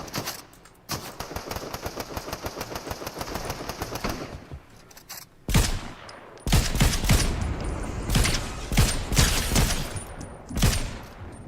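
Video game gunfight: a sustained burst of rapid automatic fire gives way to a pause, then heavier overlapping shots and volleys, loud and dense, with no talking.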